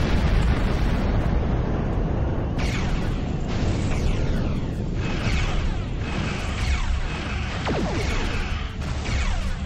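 Torpedo explosions in the space combat game Star Trek Online, a dense roaring barrage of booms and crashing blasts layered continuously with whooshing bursts, loud and close throughout.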